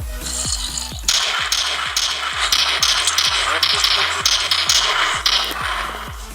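Gun firing in the video game Minecraft, in a zombies minigame: a steady string of sharp, evenly spaced shots over a droning background, loud and close throughout.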